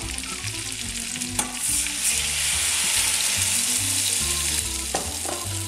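Water hits sliced carrots in a hot pan for carrots Vichy, setting off a loud, continuous sizzle and bubbling hiss close by, with a few soft clinks of cookware.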